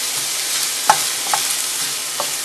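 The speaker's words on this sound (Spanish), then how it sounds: "Vamos a sofreír un poquito" Spring onion sautés quietly in a pan for Colombian tamales, a soft even sizzle punctuated by a couple of light spatula taps and scrapes.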